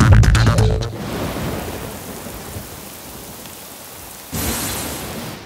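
Heavy rain pours steadily in a dubbed South Indian action movie scene, with a loud crash of thunder at the start and another surge of storm noise near the end, and no one speaking.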